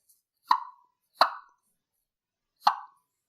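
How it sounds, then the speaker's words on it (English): A turkey diaphragm mouth call pops its reeds in three short, sharp plosive bursts, the first two close together and the third after a longer pause, each quickly decaying into silence. "I build pressure, and then I release my tip of my tongue so it pops the reeds"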